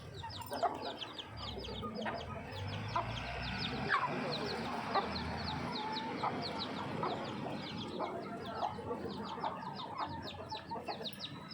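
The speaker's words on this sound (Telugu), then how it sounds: "తినిపిస్తుంది బాగానే, మధ్య మధ్యలో అరుస్తుంది" A hen clucks steadily while teaching her chicks to eat, with a busy texture of short clucks and chirps repeating close by throughout.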